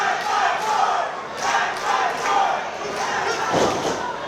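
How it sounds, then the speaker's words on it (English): A wrestling crowd roars steadily in a large hall, its cheering and shouting swelling in rhythmic waves as it urges a wrestler on, loud and dense throughout. "you hear the crowd urging him on"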